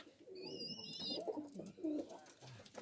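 Pigeons in a loft give soft, low throaty coos close by, with a faint high whistling chirp early on, all quiet and brief.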